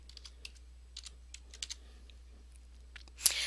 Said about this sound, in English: At this point, you'll spend time typing it.